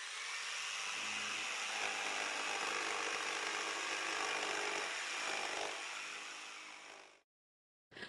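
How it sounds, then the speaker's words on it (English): A circular saw cuts through wood with a continuous rough, buzzing whine that runs steadily for several seconds, then winds down and stops. "You have a bandsaw, you have a circular saw, and this one makes this sound."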